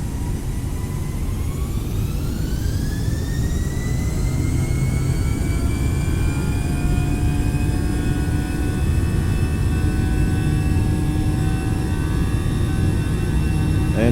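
Airbus A319 jet engines in flight in Microsoft Flight Simulator, a steady loud cabin drone with rising whine tones that climb and settle, continuous throughout with no talking.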